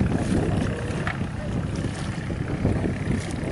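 A fishing boat engine drones steadily at an anchorage in the Mekong Delta region of Vietnam at early morning, under wind noise and a low, continuous rumble.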